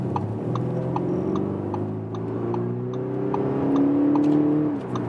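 A 2020 Audi SQ5's engine heard from inside climbs steadily in pitch as it accelerates onto a freeway, with a faint regular ticking alongside.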